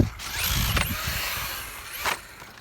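A Traxxas Slash 2WD RC truck's electric motor whines and revs as the throttle is eased on and off, with rising and falling pitch sweeps and a few rattling mechanical clicks, up close and without talk.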